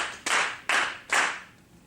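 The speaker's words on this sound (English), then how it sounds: "So let's just clap 6 1s." A group claps together in unison, three sharp, evenly spaced claps about half a second apart, each ringing briefly before fading, close and clear with no voices.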